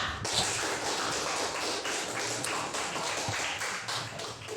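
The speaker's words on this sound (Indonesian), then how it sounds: "berikan tepuk tangan untuk kita semua" A class of junior high school students applauds together in their classroom, a dense, steady patter of many hands clapping at once that holds evenly for several seconds without pause.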